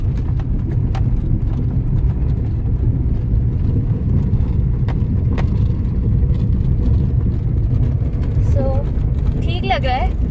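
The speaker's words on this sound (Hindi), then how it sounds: "अब मैं डाल रही हूँ दूसरा गियर।" A car engine hums steadily from inside the cabin as the driver shifts into second gear, a continuous low drone with faint rattles and someone talking over it.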